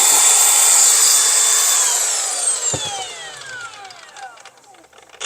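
A cordless angle grinder from Metabo or Makita spins at speed with a loud high whine, then winds down with a falling pitch over several seconds, and a single knock lands midway through.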